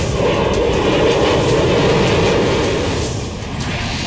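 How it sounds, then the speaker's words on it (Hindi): Indian Air Force military jets roar overhead during an Air Force Day display, a loud, continuous broadband rush that swells and then eases slightly near the end, with no voices. "भारतीय वायुसेना के विमान ध्वनि की गति से जब आसमान को चीर कर निकलते हैं"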